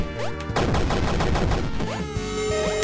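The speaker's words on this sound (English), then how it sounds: "this revolver, though, it's probably one of my favorite guns" Revolver gunfire in the retro arcade game Super Crate Box: rapid close shots layered over chiptune-style game music with rising and falling electronic effects.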